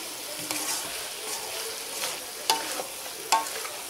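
Cauliflower and potato sabzi seasoned with garam masala is stirred in a pan over a soft, steady sizzle, with a few separate spoon scrapes landing at irregular moments, fairly close and quiet, with no talk.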